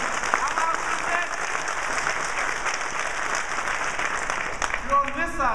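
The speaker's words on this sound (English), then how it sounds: "If you're on this side, just clap as loud as you can." A conference crowd at the Web 2.0 Expo in New York claps as loudly as it can, a dense, sustained roar of hands running throughout, with a voice breaking in briefly near the end.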